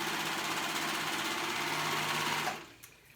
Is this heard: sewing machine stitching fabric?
yes